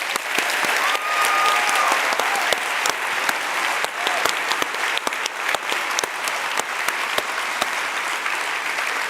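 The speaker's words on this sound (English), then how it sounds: "So please give a big round of applause to everyone." A large audience at a TEDx event in London applauds steadily and loudly, dense clapping sustained throughout with a few sharper individual claps standing out.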